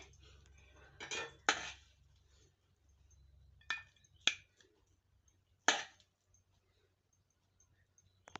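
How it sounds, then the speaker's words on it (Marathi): Spoon clinks against a pot or bowl a handful of times while potato and pea pulao is mixed and served into a bowl; sharp, scattered taps over a quiet background, with no talking. "आपण सर्व मिक्स करून घेऊया आणि एका वाटीत काढून घेते"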